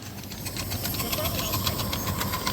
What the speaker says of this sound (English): Jeremy fired up the Northern